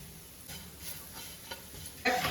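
Spice powders sauté in a pan, a low sizzle broken by soft scraping stir strokes, then a louder burst of frying near the end, close and fairly quiet, with no voices.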